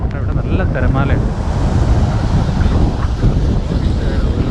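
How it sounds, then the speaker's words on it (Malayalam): Surf rolling in at Howth Beach in Ireland, a steady roar of breaking waves mixed with heavy wind buffeting the microphone, continuous and loud throughout, with a few faint voices early on. "ഇവിടെ നല്ല തിരമാലയുണ്ട്."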